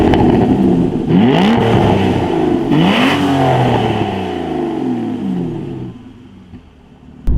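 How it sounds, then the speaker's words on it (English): An Aston Martin Rapide S in sport mode, exhaust valves open, revs hard with rising and falling engine sweeps, loud and close, settling into a lower drone before a final burst. "just put it in sport, the valves open, and you get an amazing sound"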